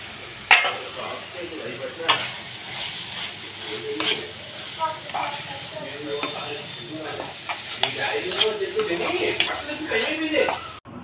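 Rice being added and stirred into a curry leaf mixture in a pan, with repeated spoon scrapes and knocks against the metal over a light sizzle, and a voice speaking intermittently.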